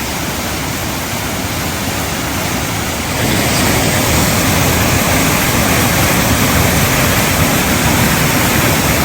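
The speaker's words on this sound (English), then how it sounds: "Got a long little trickle waterfall right there." The Fall of the Mare, a long, trickling waterfall with peat-brown water on the Northern Ireland coast, gives a steady, dense rush of falling water that swells louder after a few seconds and continues alone without voices.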